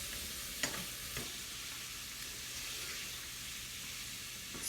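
Shrimp fry in a pan with a steady, quiet sizzle, a continuous crackling hiss throughout with a couple of faint ticks early on.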